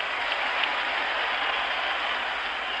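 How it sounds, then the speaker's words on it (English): A baseball crowd at Fenway Park during Game 6 of the 1975 World Series keeps up a steady, dense roar after a home run, heard as broad continuous noise at a distance on a radio broadcast. "The crowd at Fenway Park is still buzzing on a tremendous home run to right center by Lynn"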